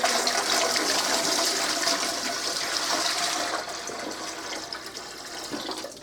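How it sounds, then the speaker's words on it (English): Water gushes steadily into a pressure canner on a stove as about two inches are added for canning leftover beef roast stew, a loud continuous pour that eases slightly toward the end. "I'm going to put a good 2 inches of water in here."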